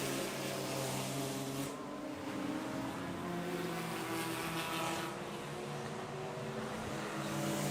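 Race cars in an endurance race at Road Atlanta, including a Mercedes AMG GT4, drone loudly and continuously as their engines hold a sustained, shifting tone.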